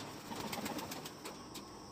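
Pigeons in a household coop coo softly and flutter, with faint wing flaps and low murmuring calls in a quiet, close space.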